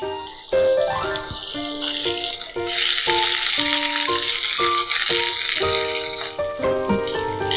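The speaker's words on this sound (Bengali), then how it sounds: "প্রথমে আমি পেঁয়াজ কুচিটা দিয়ে দিচ্ছি।" Chopped onion hitting hot mustard oil in a wok gives a steady, bright sizzle that swells after the first few seconds and continues beneath a melodic music track.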